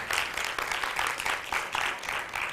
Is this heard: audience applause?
yes